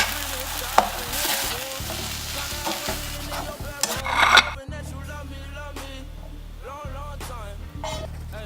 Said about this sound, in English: So these literally scramble just like regular eggs.